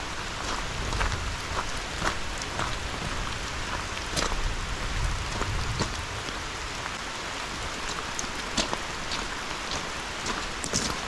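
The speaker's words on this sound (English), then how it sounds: "Yeah, so rain happens. Rain happens." Steady rain falls in a Costa Rica rainforest near Heliconias Rainforest Lodge, a dense even patter with scattered sharper drops, moderately faint and with no voices.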